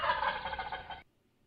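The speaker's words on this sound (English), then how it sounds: "Only male turkeys make that gobble gobble sound." A male turkey gobbles in one loud, rapid, bubbling burst lasting about a second, close by, then cuts off into near silence.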